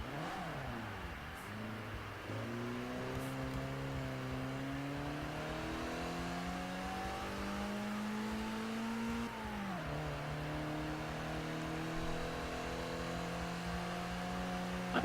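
A car engine in Forza Horizon 4 revs and accelerates steadily, its pitch climbing through gears with a sharp drop around a shift, loud and continuous with no talk.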